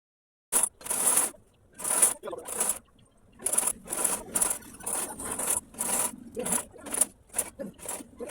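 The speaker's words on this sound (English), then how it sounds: "we are going to join these two pieces together using our machine." A sewing machine joins two fabric pieces of a princess dart bustier, running in short, close bursts separated by brief pauses.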